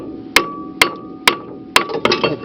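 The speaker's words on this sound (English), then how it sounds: "all I could find is this normal hammer right now, but got a piece of wood" Hammer blows on a wood block held against a seized brake rotor on a Chevy Sonic LT, five sharp, evenly spaced metallic whacks with brief ringing, then a cluster of lighter knocks, close and loud.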